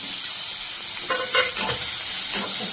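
One large onion frying in a little oil in a pan, a loud continuous close sizzle and hiss with a few stirring scrapes in the middle and no voices.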